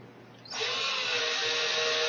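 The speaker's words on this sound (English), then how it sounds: "I'll drill an 1/8" hole." A power drill bores an eighth-inch hole into a model railroad layout to set a fence post. It starts abruptly after a brief quiet moment, then runs as a loud, steady, high whine close by.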